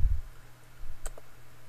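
A single crisp mouse click on the Save button in Audacity, close and short, with a faint second tick right after and a low thump just before it.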